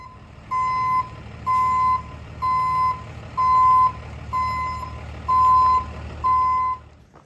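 A truck backing up at a pig farm, its reverse alarm sounding seven evenly spaced, loud steady beeps over a low idling engine rumble.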